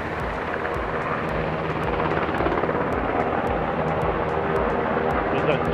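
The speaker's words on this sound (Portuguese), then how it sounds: "Ó, tem helicóptero, ó." A helicopter, seen at an aviation museum in Hamamatsu, Japan, thrums with a steady rotor and engine drone and sharp periodic blade slaps, continuous and fairly close, while people talk over it.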